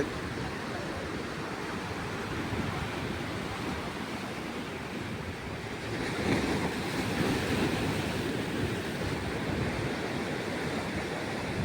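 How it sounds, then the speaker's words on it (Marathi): Sea waves roll and wash continuously in a broad hiss along the Worli Sea Face in Mumbai, swelling louder partway through, with wind buffeting in the background. "कशा लाटा आहेत"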